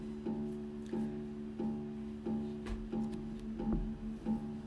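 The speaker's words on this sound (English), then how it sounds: "Acoustic bass would be really nice." An upright bass plays a slow, regular line of warm, woody plucked notes, quiet and unaccompanied.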